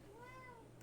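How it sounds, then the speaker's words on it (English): A small girl cat gives a single short meow close by, quiet and alone, from a shelf above a desk indoors. "Oh, it's a kitty."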